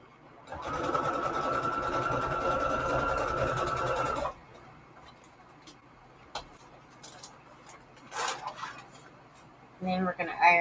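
Sewing machine stitching a quarter-inch seam in Christmas string-quilt fabric for a journal cover, running steadily for about four seconds, then stopping before faint handling clicks and brief low talk.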